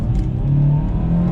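A 1991 Toyota Celica engine idles close by with a smooth, steady low hum and a faint whir over it. No voices are present.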